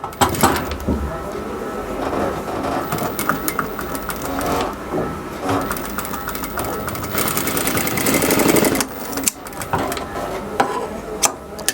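A domestic sewing machine runs slowly, stitching even pleats into a puff sleeve: a close, continuous mechanical whirr and clatter with a voice talking over it, then a brief pause near the end.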